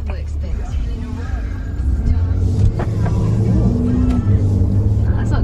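Car interior during a test drive, with a steady low engine hum and road rumble throughout, a slight rise in loudness partway, and people talking over it.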